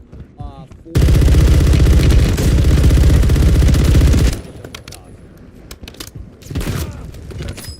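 A flashbang grenade going off in Warzone, a sudden loud blast that becomes a sustained dense roar for about three seconds, then drops to quieter game noise and scattered shots.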